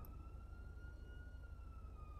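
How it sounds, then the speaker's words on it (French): A faint, steady siren tone in the video game GTA V wails continuously over a low rumbling hum, distant and thin. "Sirène, sans doute."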